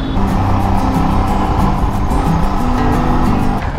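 Dense road traffic roars at a busy intersection on an airport road, with a loud, continuous rumble of car and engine noise close by and no break in the flow.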